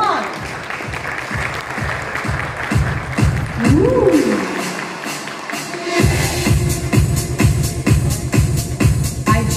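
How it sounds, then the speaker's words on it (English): A conference audience claps steadily throughout, with a voice and a brief rising electronic tone partway through. "a big round of applause for them"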